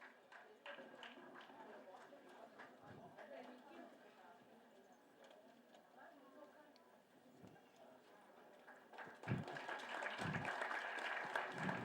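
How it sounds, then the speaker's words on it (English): Audience applause at a nurses day award ceremony, steady clapping throughout that swells louder near the end, with voices talking over it in a large hall. "May I request the gathering to kindly stand and show our gratitude to our guests by giving a round of applause."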